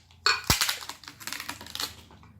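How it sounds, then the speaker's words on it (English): Tape is peeled off a thrift-store Aladdin-style lamp in short crackling, ticking bursts. One sharper rip comes near the start, followed by quieter scattered clicks, close by. "let me actually take the tape off."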